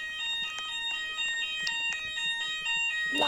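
A fire alarm rings with a steady bright electronic tone pulsed by rapid clanging strikes, continuous and fairly loud, with faint background noise.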